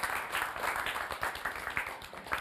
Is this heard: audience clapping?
yes